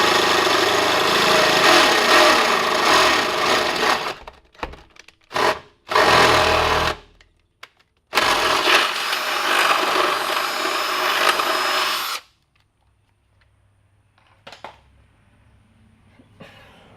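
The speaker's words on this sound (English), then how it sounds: "now we got to take a 1/2 inch drill bit, and we're only going to drill through this side." A half-inch bit drills through one side of a Mustang frame rail, loud continuous whine in long bursts with several short stops and restarts, then near silence with faint handling clicks.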